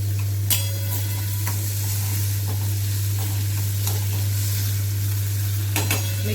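Tomatoes hiss in a hot pan over a raised flame for mug masala, a steady near sizzle with a low constant hum beneath and a few sharp utensil taps, no voices.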